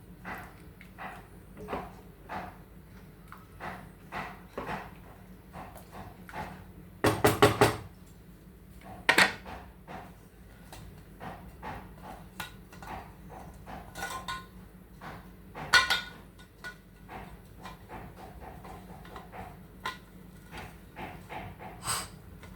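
Beetroot biryani is stirred in a pot, with scattered close metal knocks and scrapes of a spoon against the vessel and a few louder clanks, over a quiet background.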